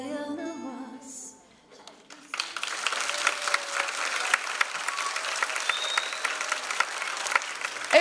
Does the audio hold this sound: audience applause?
yes